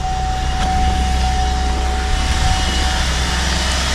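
A GM 3.6-litre V6 in a 2013 GMC Acadia idles steadily up close, a continuous low engine hum with a faint high whine running through it and no talk over it.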